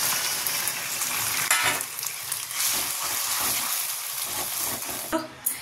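Boiled greens go into onion and green chilli fried until red, setting off a close, steady sizzling hiss that fades slightly toward the end.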